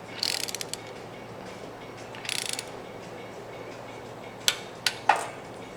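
A torque wrench tightens spark plugs on the 1904cc engine of a 1964 Karmann Ghia race car, making two short bursts of ratcheting followed by three sharp metallic clicks, quiet and close, with no talking.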